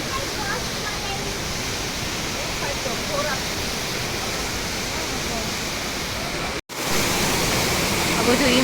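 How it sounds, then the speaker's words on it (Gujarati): Mountain streams and a waterfall in the cold Himalayan hills near Mussoorie, fed by snowmelt, give a steady, dense roar of rushing water that fills the whole clip at close range with almost no change, broken only by one abrupt instant cut. "ઝરણા છે ચારે બાજુ."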